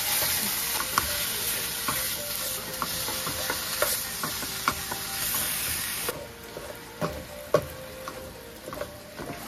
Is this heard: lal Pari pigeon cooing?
no